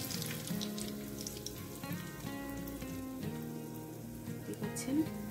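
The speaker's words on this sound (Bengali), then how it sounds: "আস্তে আস্তে করে চিকেনগুলো ভেজে নিতে হবে।" Pieces of restaurant-style chicken chaap frying in oil in a pan over medium heat, giving a steady crackling sizzle like light rain that carries on throughout, with faint talking underneath.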